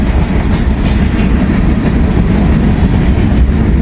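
Freight train rolling past on a foggy Kentucky line, a loud and steady close rumble with wheel clatter that holds through the whole stretch without a break.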